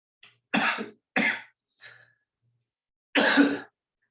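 Four or five short, dry coughs come in separate bursts, close by, with brief silent gaps between them.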